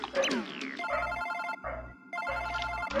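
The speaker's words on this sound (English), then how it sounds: "Oh wait, that is my phone." Cartoonish phone ringtone in the video game Super Paper Mario, a repeating electronic trill in short bursts with brief gaps, fairly soft and clean, preceded by a quick sliding game chime with no voices.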